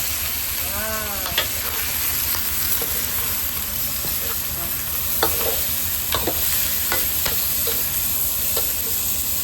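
Tomatoes and chicken sautéing in a pan for kinamatisang manok, a constant close sizzle broken by repeated scraping stirs and clicks of a utensil.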